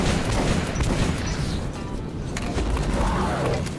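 Gunfire from the video game Metro 2033 Redux booms through dense, continuous noise, with heavy low-end impacts blending into the game's din throughout.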